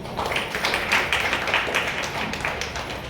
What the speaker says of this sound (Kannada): ಇವ್ರಿಗೆಲ್ಲ ಚಪ್ಪಾಳೆ ಹಾಕ್ರಿ ನೀವು